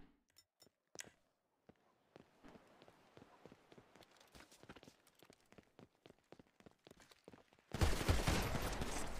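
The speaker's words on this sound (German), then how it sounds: "Digga, wie oft muss ich noch in sein Gesicht schießen?" Rapid bursts of gunfire in GTA roleplay, a string of sharp shots building into a dense, loud fusillade near the end.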